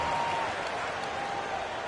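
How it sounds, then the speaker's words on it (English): Crowd applause in the NBA2K26 basketball video game, Hawks at 76ers, a continuous even wash of clapping lasting about two seconds with a brief thud near the end. "Give your scouts a round of applause."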